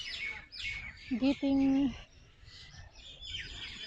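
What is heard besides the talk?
birds chirping in a park after rain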